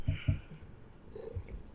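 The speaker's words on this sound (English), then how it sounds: "He's purring really loud" A cat purrs loudly and close up, with a few heavier low rumbles near the start and again toward the end.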